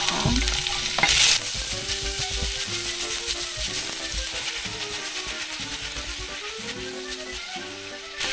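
Cabbage and sliced onion tossed in a hot pan with garlic, giving a steady sizzle with repeated scraping and clanking of a utensil against the pan, loud and close with no talking.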